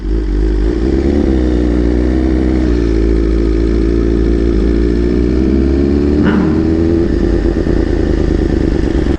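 BMW S1000RR and M1000RR motorcycle engines running together, a loud, steady, close rumbling idle with a faint rise in pitch midway and no voices.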